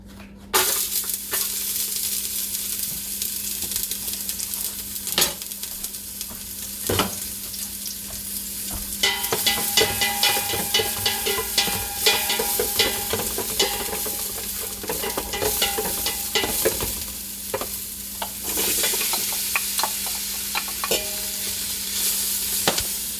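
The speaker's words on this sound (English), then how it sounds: "you brown it a few minutes until the meat's almost half cooked first" Meat browning in hot oil in a pan for hot and sour soup gives a loud, continuous sizzle, close up, broken by scraping stirs and occasional clatters of the utensil against the pan, with no talking.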